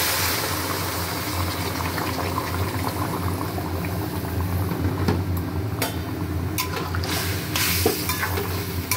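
Hot water is poured into a potato curry in a pan, making a steady rushing, bubbling sizzle that runs close and continuous, with a few faint clinks near the end and no talk.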